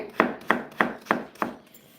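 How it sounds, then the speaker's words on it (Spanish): A knife chops potatoes on a cutting board for potato gorditas, five crisp, evenly spaced strikes close by, with no talking. "ahorita van a ver cuántas papas están haciendo con 3 nada más que estoy picando"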